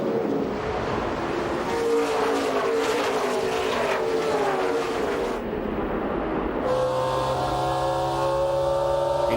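NASCAR Craftsman Series trucks race at Gateway, a loud sustained roar of engines with rising and falling pitch as trucks pass, then a sudden shift to a steadier, higher whine near the end.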